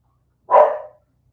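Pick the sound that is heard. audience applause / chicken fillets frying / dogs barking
dogs barking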